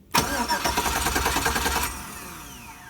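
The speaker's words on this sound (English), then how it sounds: "So if I jump both of these, we should basically get the starter to start." Starter on a Chevy Silverado or Avalanche 5.3L V8 cranking with a rhythmic, rapid chug for nearly two seconds, close and loud, then cutting off and leaving a quiet ringing tail.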